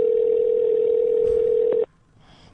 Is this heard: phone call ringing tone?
yes